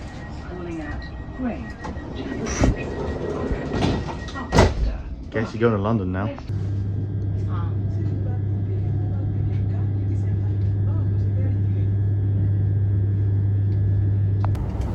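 Train from Tilbury Town heard from inside the carriage: door thumps and a rising electric motor whine give way to a steady low hum while running, with someone talking early on.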